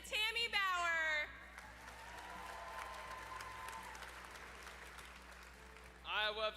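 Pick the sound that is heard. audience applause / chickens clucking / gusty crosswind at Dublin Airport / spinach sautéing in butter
audience applause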